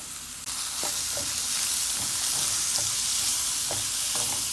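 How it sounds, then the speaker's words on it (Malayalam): Sliced garlic and onion sizzle steadily in a hot pan while a spoon stirs, scraping and tapping now and then through the constant frying hiss, close up and with no voices. "എല്ലാം കൂടി ഇട്ട് കൊടുക്കാൻ പോവാ ഓക്കെ എന്നിട്ട് നന്നായിട്ട് ഇളക്കുക"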